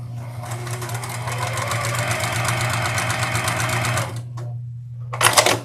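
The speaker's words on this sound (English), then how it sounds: "Now I'm going to line up my needle right along that drawn line, and I'm just going to sew across there." A sewing machine stitches quilt squares for a beginner nine-patch quilt along a drawn line, running with a steady rapid mechanical hum for about four seconds, pausing briefly, then starting again in a short burst.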